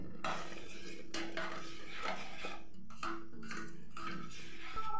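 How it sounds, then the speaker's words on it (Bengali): Sugar being stirred into boiled rice for date jaggery payesh, a spoon scraping and knocking against the pot in repeated strokes, close and fairly loud, with no voices. "চিনি দিয়ে খুব ভালোভাবে মিশিয়ে নেব।"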